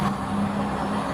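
Car engine idling after a crash, a steady low hum with a constant tonal drone, close and continuous with no talk.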